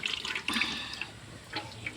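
Cooking oil is poured into an uruli pan, a traditional wide vessel, for frying upperi chips outdoors in the wind. A brief, steady liquid pour with soft splashing lasts about two seconds, with no talking.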